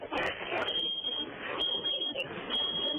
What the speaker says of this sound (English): why is an alarm going off?